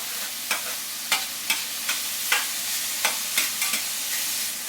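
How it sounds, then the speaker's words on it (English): Pork sizzles in a frying pan for a Vietnamese crepe omelette, a steady close hiss punctuated by about a dozen sharp stirring scrapes at an uneven rhythm, with no talking. "we'll fry this up till the pork is cooked"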